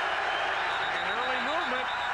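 A football stadium crowd at a CFL game between Edmonton and Saskatchewan roars as a broad, steady wash of noise, with an announcer talking over it throughout.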